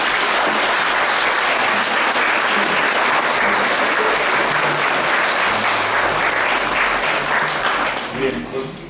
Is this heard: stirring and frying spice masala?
no